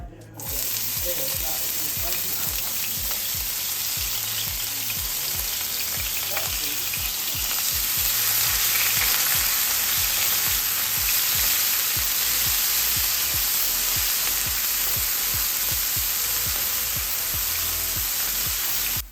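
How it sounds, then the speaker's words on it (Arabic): Onions fry in oil for a lamb chalfrai, a loud, steady sizzle close by with a regular rhythmic scraping as the pan is stirred throughout. "راح اضيف زيت وابدي احمس المكونات كامل. اضيف البصل"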